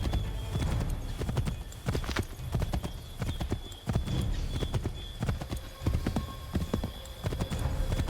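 Horses gallop in Assassin's Creed III with a fast, continuous clip-clop of hooves close by and an occasional whinny.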